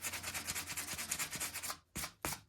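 Rough epoxy on a ski or snowboard top sheet being hand-sanded with 150-grit paper, a close, steady run of rhythmic scraping strokes that stops briefly, then two short final passes.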